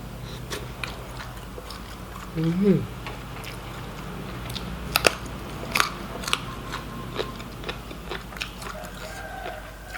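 Someone bites and chews food from a spicy Thai-Lao fish larb meal made with large carp, with sharp crunchy bites and scattered crackling chews spread across the span, a voice briefly sounding early on.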